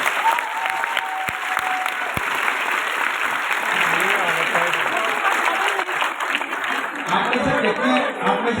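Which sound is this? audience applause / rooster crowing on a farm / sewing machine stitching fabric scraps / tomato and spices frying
audience applause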